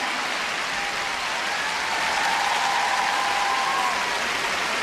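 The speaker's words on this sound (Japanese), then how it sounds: "場内割れんばかりの拍手に包まれます。" Dense, sustained applause from a large arena crowd after a figure skating ice dance performance, steady and loud throughout without a break.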